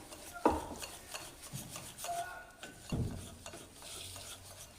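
A spoon stirs eggless chocolate cake batter after a spoonful of milk goes in, making scraping, rubbing strokes against the bowl with a few sharper knocks, close and fairly quiet.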